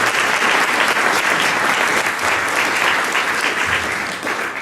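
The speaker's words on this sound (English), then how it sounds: "I think we should give Mrs. Miller another huge round of applause" Audience applause for Mrs. Miller, a principal, at a school IB celebration, dense steady clapping from a large crowd lasting throughout and tapering slightly at the end.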